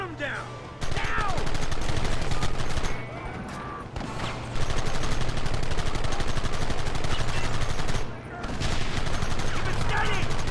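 Nearly continuous gunfire in the Western video game Red Dead Redemption, rapid close shots rattling under a steady engine hum, with short gaps between long volleys and voices shouting over the shooting.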